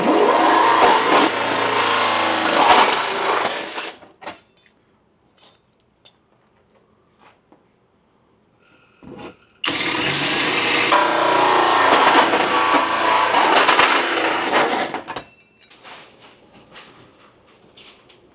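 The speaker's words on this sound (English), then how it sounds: "go ahead and drill these out" A power drill bores out holes during a Tosot 36K multi-zone ductless mini-split installation, running in two long, loud, steady bursts separated by a quiet pause with faint handling clicks.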